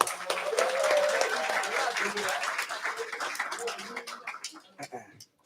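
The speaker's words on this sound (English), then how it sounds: "Give them a round of applause." Applause for church staff seated in the front rows at a community service, a dense burst of many hands clapping that swells then thins out over several seconds, fairly distant, with a few voices.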